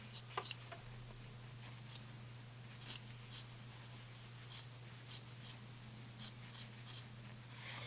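Scissors trim excess fabric on a sewing project, a quiet series of short, crisp snips spaced irregularly over a low steady machine hum, with no talking.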